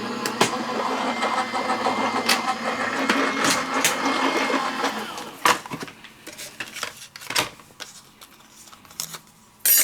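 A die-cutting machine feeds craft dies and paper through on a metal mat, giving a steady loud mechanical rumble and clatter for about six seconds, followed by quieter scattered clicks and knocks.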